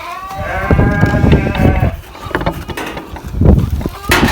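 Sheep and lambs bleating close by, several overlapping wavering calls in bursts, with some rustling and low background noise between them.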